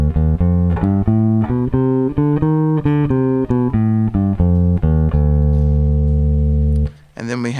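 An electric bass guitar plays a modal scale with a flat second, each note plucked in a steady ascending and descending run. It finishes on a long sustained low note, followed by brief speech at the end.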